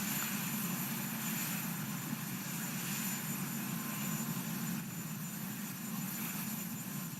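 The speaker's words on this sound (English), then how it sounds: "Now the former president getting inside the helicopter. And we should be able to watch it take off." Steady, distant helicopter rotor and engine drone as it takes off at the U.S. Capitol inaugural ceremonies, holding an even level throughout, a continuous mechanical rumble with broadband whine above it.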